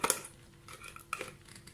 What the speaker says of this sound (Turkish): Hemen kavanozun kapağını kapatıyorum